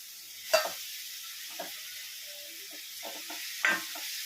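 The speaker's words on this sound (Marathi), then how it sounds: "तर आपण हे उबलून घेतलेले नूडल्स यामध्ये टाकणार आहोत." Boiled hakka noodles tossed into a hot pan with noodle masala, giving a soft steady sizzle with a few brief clattering tosses and stirs.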